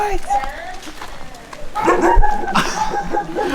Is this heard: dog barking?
yes